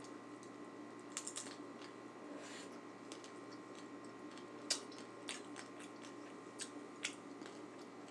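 Crunchy tortilla being bitten and chewed, faint close crackling crunches scattered irregularly over a quiet steady room hum, with a few sharper snaps standing out.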